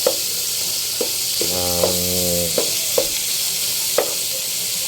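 Squash and string beans sauté with onion in a hot pan, a steady close sizzle broken by sharp spatula taps about once a second, with a brief humming tone partway through.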